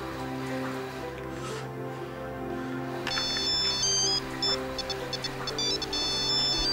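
A phone ringtone chirps in a repeating electronic pattern, entering partway through over a steady low hum and background noise, with no talking.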